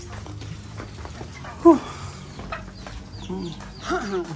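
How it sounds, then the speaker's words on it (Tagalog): Chickens cluck on a farm in a few short, moderately near calls over steady outdoor background noise, with faint voices in the distance. "Ang dadali dito ng manok"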